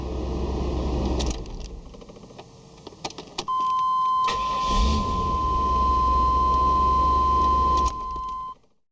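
A Chevy/GMC OBS pickup truck is being started after wiring repairs: a steady engine rumble, a pause with small clicks, then a warning chime tone over the engine running again, close and moderately loud.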